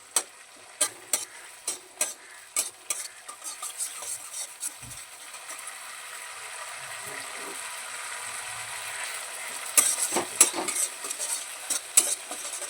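A spoon stirs a soy sauce mixture in a pan for restaurant-style crispy corn, sounding as crisp repeated taps and scrapes against the metal over a quiet simmer, with busier stirring near the end and no talking.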